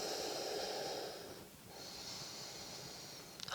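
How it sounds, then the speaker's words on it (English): A person takes deep breaths during a yoga stretch, a long audible inhale, a brief pause, then another drawn breath close to the microphone, with no talking. "And again, just breathe in."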